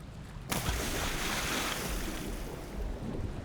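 Water in the Legend of Grimrock II dungeon video game rushes in steadily as a sudden wash of splashing and surf-like noise that starts abruptly and continues loud and unbroken.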